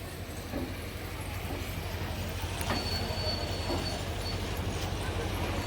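Goods train locomotive moving slowly along the platform three line at Berhampore Court railway station: a steady, continuous low engine rumble with faint metallic squeals, at moderate level throughout.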